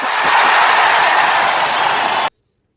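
Loud, dense crowd noise, cheering and applause blended into a steady roar that fills the space and then cuts off abruptly.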